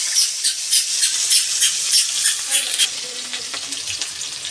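Chopped onion dropped into hot oil with whole garam masala spices, cumin, dried chilli and bay leaves, sizzling loudly and close, with a rhythmic pulsing fry that steadies into a softer continuous hiss.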